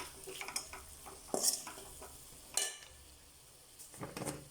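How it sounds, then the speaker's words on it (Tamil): Carrot and capsicum being stirred in a pan for kothu chapathi, with a few distinct scraping and clinking spatula strokes against the pan amid a faint sizzle. "கேரட்டை சேர்த்து நல்லா கிளறி விட்டுக்கணும்"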